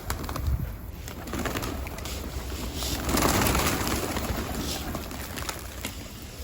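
Pet pigeons or doves coo and call steadily at close range in a room, several birds overlapping in a soft, continuous murmur with faint rustling.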